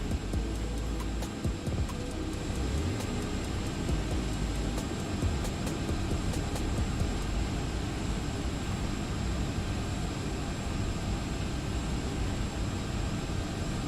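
A Boeing 757 freighter's engines in the X-Plane 11 flight simulator hold a steady, heavy low rumble and hum, with a faint high whine above it, as throttle comes up for taxi. No voices.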